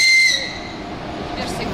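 A train horn sounds one short, shrill blast, then fades into a steady low rumble of rolling cars.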